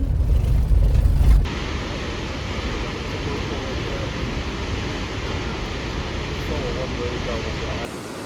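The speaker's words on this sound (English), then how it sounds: "now I'm gonna drive to where I'm sleeping tonight" Car driving on a road in Washington, heard from inside as a steady, fairly loud broadband road and engine rumble that runs unbroken after a brief louder burst at the start.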